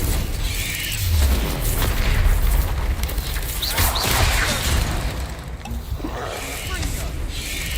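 Explosive booms from a Harry Potter video game's Confringo blasting spell, heavy low rumbles and whooshing crashes filling a continuous loud stretch of game sound with a voice present.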